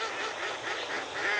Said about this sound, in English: Now the ducks are talking.